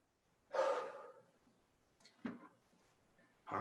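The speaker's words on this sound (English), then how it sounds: "You'll be able to hear my breathing a little bit more." Heavy breathing during a cardio workout, with a strong exhale followed by a couple of shorter, fainter breaths, close and alone without talk.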